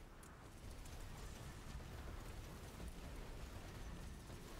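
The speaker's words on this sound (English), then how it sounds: "Big explosions." Suction bomb explosions in the video game Soulstone Survivors, a dense continuous rumbling roar of overlapping blasts with no talk.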